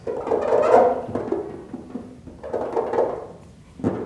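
A hand or cloth rubs over car paint coated with a wet-coat sealant in a squeak test, making two drawn-out, close rubbing squeals, then a third brief stroke at the end.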